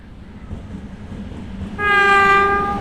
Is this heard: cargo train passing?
yes